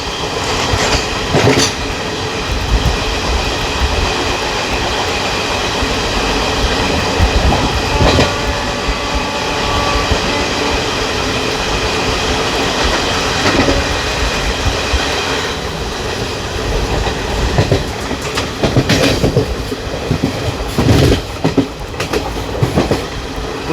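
A Vistadome coach rolls on the rails from Ranchi to Giridih while overtaking a freight train, giving a loud, continuous rumble with clattering wheels throughout.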